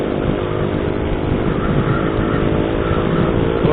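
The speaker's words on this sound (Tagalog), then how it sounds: "Ang lakas ng motor nila, guys." Motorcycles race past loudly on a bypass road being used as a makeshift race track, their engines a continuous, dense roar that holds steady and close throughout, with no talk over it.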